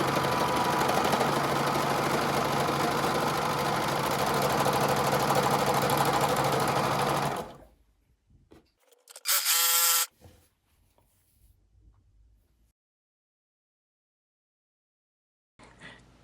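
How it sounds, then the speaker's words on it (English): A serger machine stitches along tunic seam allowances in a steady, loud motor whir lasting several seconds, then stops abruptly, followed by a short burst of mechanical noise and quiet handling sounds. "I'll be serging within the seam allowance."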